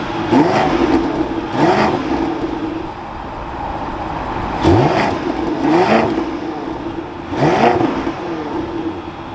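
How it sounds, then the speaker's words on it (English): A 2025 BMW X7 M60i V8 revved repeatedly, with four sharp throttle blips swelling out of a steady idle rumble, close and loud with no talking. "let's fire this up though and take a listen to that V8"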